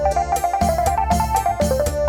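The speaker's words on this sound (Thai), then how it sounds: "อันนี้เสียง ออแกน ครับ" An organ voice plays on a Casio MA-220 49-key keyboard: a short run of sustained, reedy chords with a melody line on top and rhythmic low bass steps, close and clear, no talk.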